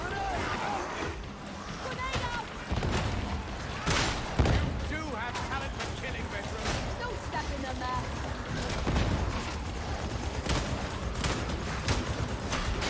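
Shots ring out repeatedly in the grimdark shooter Warhammer 40,000: Darktide, with a Veteran firing a shotgun through cover. The blasts come at irregular intervals, sit fairly low in the mix and are mostly under someone talking throughout.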